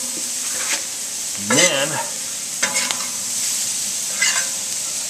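A stir fry sizzles in a wok outdoors, a steady bright hiss broken by a few scraping stirs of the spatula, with someone speaking briefly over it.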